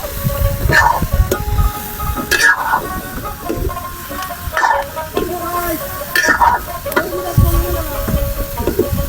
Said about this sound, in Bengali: দেখতে পাচ্ছেন পেঁয়াজ মরিচ কষিয়ে তারপরে সবজি দিয়ে দিলেন।